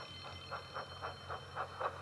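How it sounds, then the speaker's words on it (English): An alarm bell rings in a Thomas the Tank Engine wooden railway story, calling out the breakdown train. Rapid, evenly spaced rings repeat over a low background hum at moderate volume. "Soon came the alarm."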